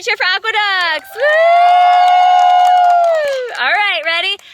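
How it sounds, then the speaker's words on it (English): A group of kids at a cupcake competition lets out a long, loud sustained whoop cheering the Aqueducts team, with short excited shouts just before and after. "Everybody cheer for aqueducts"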